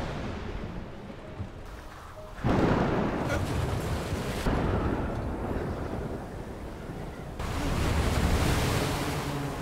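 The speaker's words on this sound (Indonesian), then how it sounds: "Mereka terombang-ambing oleh ombak yang mengerikan" Heavy storm waves at sea, a broad continuous roar of surf and wind that surges louder in steps, with no voices over it.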